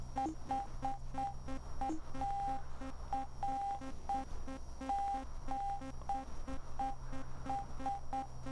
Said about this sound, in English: And we get to do the telegraph.